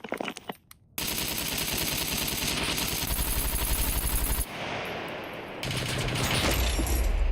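Long rapid bursts of rifle fire in the survival game SCUM, loud and continuous with a brief dip midway, after a few scattered opening shots.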